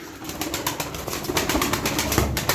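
Gitti pigeons in a coop give off soft cooing and rustling, with a few brief wing flaps, close by and moderately quiet.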